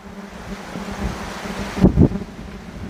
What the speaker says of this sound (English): this a gust of wind just came through here